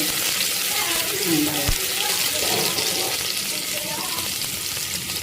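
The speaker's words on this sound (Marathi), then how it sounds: "कडीपत्ता टाकल्यावर नाचायला लागले ते कढीपत्ता ओला होता त्याच्यामुळे ते उडत" Wet curry leaves spluttering in hot oil while tempering for matki usal: a loud, steady, close sizzle and crackle runs the whole time with faint background sounds, and no one speaks.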